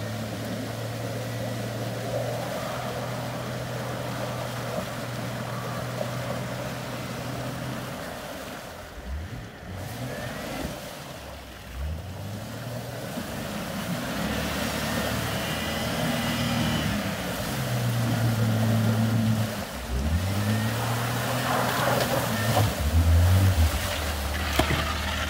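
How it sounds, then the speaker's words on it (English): Bone-stock Jeep WJ pushing through a deep mud puddle off-road, its engine droning and rising in pitch with sloshing, splashing water throughout; no talk. "Jeep really did impress me on that deep mud puddle."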